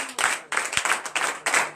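A congregation claps at a church deliverance and prophecy night service, with quick bursts of hand claps in uneven rhythm, fairly close and loud.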